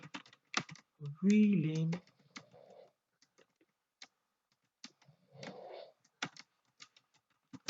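Commands typed on a computer keyboard while configuring a network switch, sparse and fairly faint clicks spread across the stretch, interrupted by someone speaking and a brief bird-like coo.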